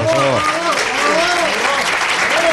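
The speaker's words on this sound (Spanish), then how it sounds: "Un aplauso para Andrés" A studio audience applauds for Andrés at a live radio season presentation, a steady, dense wash of clapping heard close, with voices speaking over it throughout.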